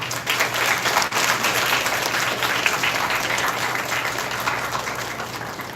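A school audience claps steadily for the teachers who wrote the script of a mock parliament staged by classes XI A and B, a dense, sustained applause that carries evenly from start to finish.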